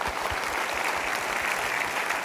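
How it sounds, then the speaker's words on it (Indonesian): An audience applauds after a motivational talk, giving a steady dense wash of clapping at moderate level with no voices over it. "Kita berikan tepuk tangan dulu"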